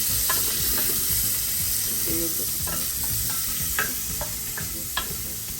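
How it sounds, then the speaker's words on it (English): Bacon fries in a pan for a Brazilian tripe stew, a steady crackling sizzle close by, punctuated by sharp intermittent clicks and taps of a utensil stirring. "É o bacon frito puro aqui"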